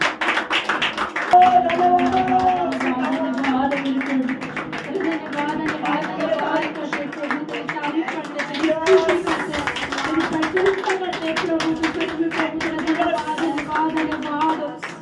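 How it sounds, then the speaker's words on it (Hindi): Worshippers at a Christian gathering clap in a fast steady rhythm, loud and close, with singing and a voice running over the claps the whole time. "जोर से ताली बजा, उसकी तारीफ करें।"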